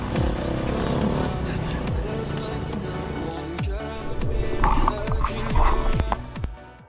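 Off-road motorcycles ride through Russian woods, engines buzzing and revving with repeated pitch sweeps as the bikes accelerate and shift, loud and close for the whole stretch.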